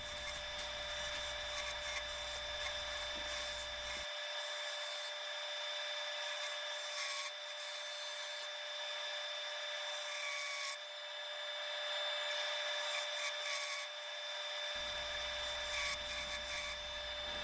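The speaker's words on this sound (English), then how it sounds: "dragging the gouge back to pull all the shavings out" A lathe gouge works Siberian elm end grain with a continuous scraping, rubbing cut under a steady motor hum, faint and even throughout with a few rougher bursts and no speech.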